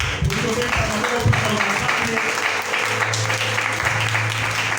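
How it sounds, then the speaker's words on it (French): A church congregation bursts into applause and cheering, a dense wash of clapping with voices calling out in the crowd. "Est-ce qu'on peut acclamer là?"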